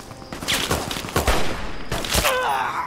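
Gunfire rings out during combat in the Fallout video game, in this case Tale of Two Wastelands in the ruins of DC, as a rapid series of loud, sharp shots with echoing tails, heard alone.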